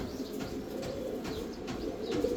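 A fancy pigeon coos softly in a low, throaty rolling rhythm, repeated murmurs blending with a steady background hum and a few light chirps from other birds nearby.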